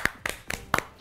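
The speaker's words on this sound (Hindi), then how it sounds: "चलो मैं सब मिलकर तालियां बजाओ बनीता और अरोहा के लिए" A few sparse hand claps ring out close by, four distinct rhythmic strikes spaced about a quarter second apart, welcoming two guests.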